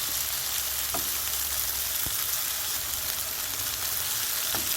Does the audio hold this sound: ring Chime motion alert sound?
no